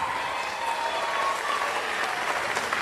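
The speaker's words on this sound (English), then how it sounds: "give that girl a round of applause" A steady wash of applause from a crowd at a 5th grade promotion ceremony, continuous clapping at an even level throughout with no voices standing out.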